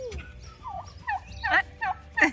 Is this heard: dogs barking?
no